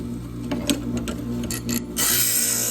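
A stained glass grinder with a water-fed sponge grinds glass, giving a steady motor hum broken by short scraping contacts. Near the end it becomes louder, brighter grinding.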